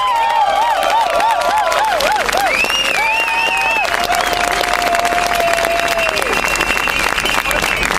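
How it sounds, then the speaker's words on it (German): Outdoor rally crowd applauding and cheering in bad weather, dense sustained clapping with whistles and some voices mixed in throughout. "Gebt euch selber einen Applaus dafür."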